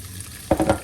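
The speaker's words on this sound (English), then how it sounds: "Nice sizzle." Ham hits a hot frying pan for a frittata with a sudden loud sizzle, crackling bursts following close after a quiet moment.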